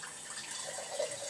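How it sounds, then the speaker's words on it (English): Water poured from a tap or container into a pan while making a tuna pasta bake, a brief soft splashing trickle, quiet and close. "pour a little bit of water"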